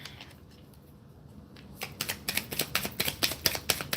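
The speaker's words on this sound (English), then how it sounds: "These cards are too small. They're too small for my hand, so it makes it really hard to shuffle." A deck of small playing cards is shuffled by hand, with quiet handling at first, then a burst of rapid, crisp riffling snaps close to the microphone.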